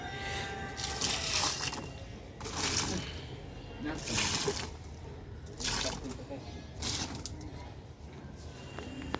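Water pours and splashes onto drooping tomato plants in a rooftop garden in repeated bursts a few seconds apart, with a person talking over the steady outdoor background.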